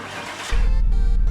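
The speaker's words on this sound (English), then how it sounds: "Start the car." Car engine starting in the Car Mechanic Simulator 2018 video game: after a half-second of quieter background, a loud low engine rumble kicks in abruptly and holds steady, close and dominant.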